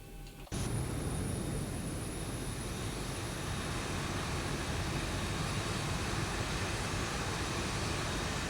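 A Ryanair airliner's engines roar loudly and steadily after a sudden onset, holding a broad, even jet rumble with a thin high whine throughout.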